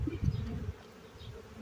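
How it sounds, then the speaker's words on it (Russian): Honey bees buzzing in an open beehive during hive expansion, with brood in the frames; a steady low drone, louder in the first half second and then settling into a softer continuous hum, with no talking. "Вредные пчелы, нехорошие пчелы."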